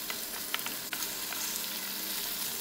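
Chicken pieces, about 250 grams, frying and being stirred in a pan: a steady close sizzle with scattered scraping clicks of a utensil against the pan, no voices.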